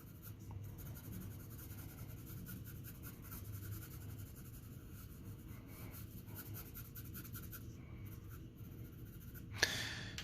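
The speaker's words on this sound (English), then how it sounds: "2B pencil, light hatching." A 2B pencil lightly hatching on paper, a faint steady scratching of short strokes, close and quiet, with one brief sharper sound near the end.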